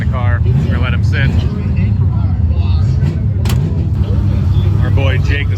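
A boosted car engine fires up and runs with a loud, steady low rumble throughout, with people talking over it nearby.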